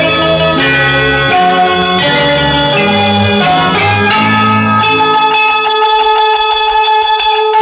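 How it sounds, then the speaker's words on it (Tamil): A church bell rings loudly within a Tamil song of the 1960s, its bright repeated chimes layered over instrumental music and continuing steadily to the end. "கிண்கிணி கிண்கிணி கிணி கிணி கிணி என வரும் மாதா கோயில் மணியோசை."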